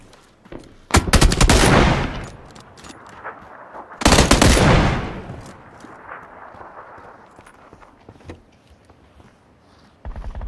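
Gunfire in the battle-royale video game PUBG: two loud, sharp shot bursts close together, each trailing into a long echoing tail, followed by quieter rumbling and a faint later crack, with no talk.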